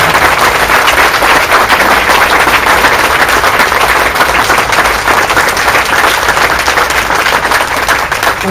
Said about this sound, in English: Let's thank both of the candidates tonight by giving them a round of applause.